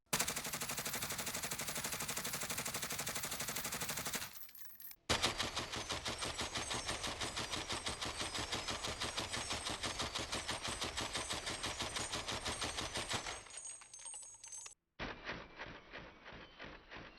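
Sustained automatic fire from a GRAU 5.56 rifle in the Warzone video game, dense rapid shots in long continuous bursts with brief pauses between strings, loud and without any talk.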